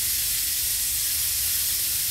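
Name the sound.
spraying WD-40 on a weapon in the video game Z.O.N.A Project X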